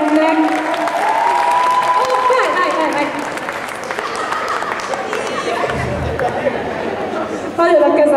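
A crowd at an anime and cosplay convention applauds steadily, loud continuous clapping mixed with chatter and a voice speaking over it.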